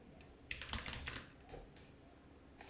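Quick flurry of keystrokes on a computer keyboard during a Minecraft session, a dense cluster of soft clicks followed by a few scattered taps, quiet and close with no talking.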